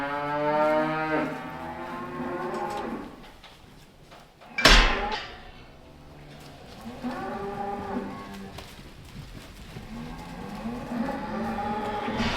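Cattle on a farm moo repeatedly in long, loud, drawn-out calls, several animals overlapping, with a sharp metallic bang like a gate or door partway through and no talking.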